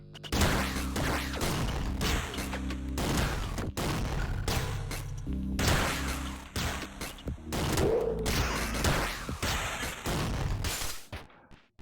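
Rapid bursts of machine-gun fire from the video game Downwell, dense and continuous with booming impacts and crashes layered throughout, loud and steady before cutting off near the end.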